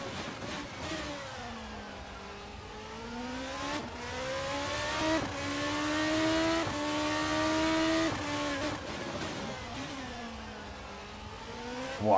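Formula 2 race car engine in a racing video game, heard onboard at the Singapore circuit on the final lap: a sustained loud, buzzing engine note that rises and falls through gear changes, alone without voices.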